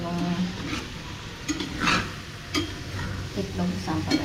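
Eggs sizzle in a frying pan while a utensil stirs them, scraping against the pan in repeated strokes over a steady frying hiss, close up, with faint speech in the background.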